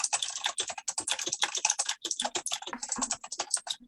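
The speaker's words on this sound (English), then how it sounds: "Keyboard clatter." Computer keyboard typing, a dense rapid clatter of keystrokes filling the whole stretch, close and fairly loud with no voices.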